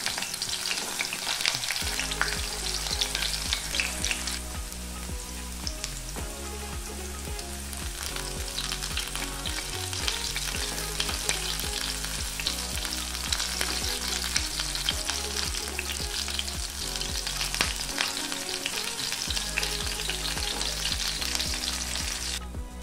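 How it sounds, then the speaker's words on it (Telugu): Stuffed bitter gourds fry in oil over a low flame, giving a steady, continuous sizzle that holds close and even throughout, with a rhythmic musical backing running underneath and no voices. "లో ఫ్లేమ్ మీద వీటిని వేపుకోవాలి. మధ్య మధ్యలో వీటిని అన్ని వైపులా తిప్పుకుంటూ వేపుకోవాలి."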